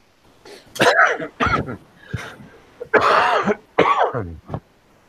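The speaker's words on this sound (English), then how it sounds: "sorry, coughing." Several harsh coughs and throat-clearing bursts in quick succession, close to the microphone, with short pauses between them.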